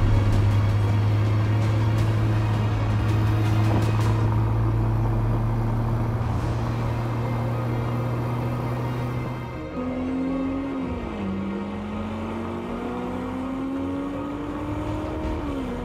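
Lamborghini Huracan LP 580-2 Spyder, rear-wheel drive with paddle shifting, its engine droning steadily under load, then an upshift near the middle followed by rising revs as it pulls again, loud and continuous from inside the car.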